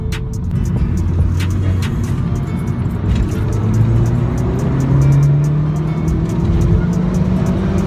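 A Vauxhall VXR sports car engine with a stage 1 induction kit drones steadily nearby, its low rumbling tone rising gradually as it runs alongside, with road noise throughout.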